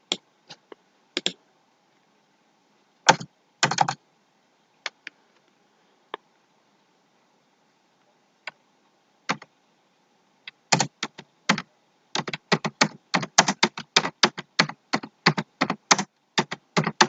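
Someone types on a computer keyboard while entering an address into an ID card layout in Microsoft Word: scattered single key clicks at first, then a fast, steady run of close keystrokes.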